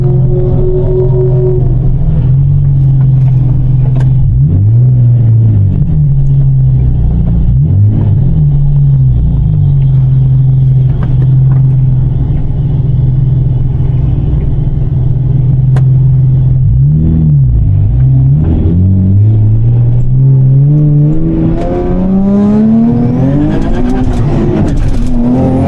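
A turbocharged Nissan 370Z races at 14 psi of boost. Its engine roars loud and close throughout, with repeated rising and falling revs and a final climbing surge of acceleration, and no voices.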